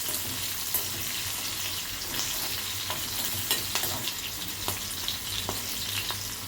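Green chillies fry in hot oil for an okra (bhindi) dish, giving a steady, close sizzle with occasional sharp crackles and pops throughout, and no voices over it.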